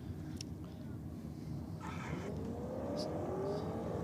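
Chrysler drag racing car launching off the line at a New South Wales championship drag meet, a loud sustained engine roar building with a rising tone, heard from the track with crowd and commentary noise beneath.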